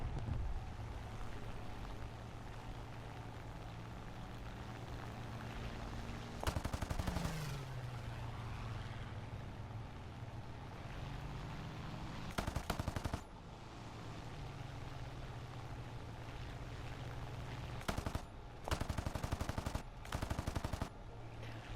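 Bursts of rapid machine gun fire from a fighter plane in a combat video game, with bursts at about 7, 12.5, 18 and 19–21 seconds over a steady engine drone and wind noise.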